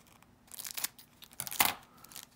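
Scissors snip and slice through the crinkly wrappers of 1991 Conlon Collection baseball card packs, giving a few close, sharp bursts of cutting and crinkling with quiet gaps between.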